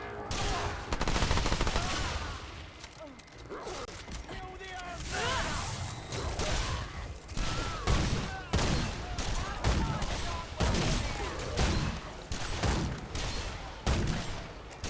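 Sniper rifle gunfire in the video game Remnant II, with repeated sharp shots cracking at irregular intervals over a rumbling game soundscape, moderately loud.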